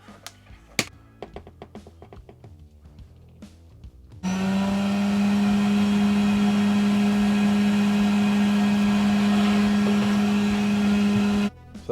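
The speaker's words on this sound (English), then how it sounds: "So there we go, the Remoco vacuum, Model A1." Clicks and handling noises, then a vintage Remoco Model A1 vacuum cleaner, used as a shop vac, switches on and runs with a loud, steady drone and whine for several seconds before shutting off.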